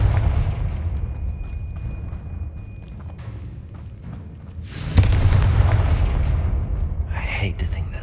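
A Confringo blasting spell in the video game Hogwarts Legacy erupts into a loud, booming explosion midway, its rumble and crackle sustaining under game ambience.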